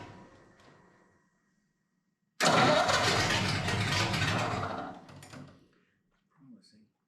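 A Ford flathead 8BA V8 on its first start attempt cranks loudly for about two and a half seconds after a quiet pause, a churning starter-and-engine roar that cuts off abruptly; voices talk briefly around it.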